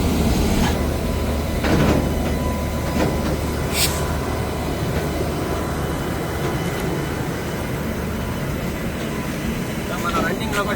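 A running train, heard from aboard a locomotive, gives a loud, continuous rumble with steady rolling clatter and occasional sharper knocks throughout.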